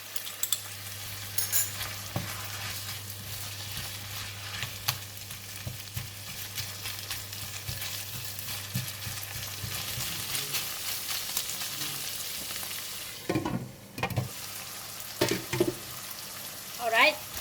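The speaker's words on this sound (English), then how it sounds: "we cook until we make sure that the shiitake mushroom is well cooked" Shiitake mushrooms and kuey teow stir-fry in a pan, a steady sizzle with scraping and stirring clatter throughout and a brief rustling pause near the end.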